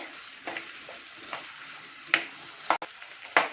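Shallots sauté in a pan for Kerala-style squid thoran, a quiet continuous sizzle broken by several sharp scrapes and clacks of a spoon stirring against the pan.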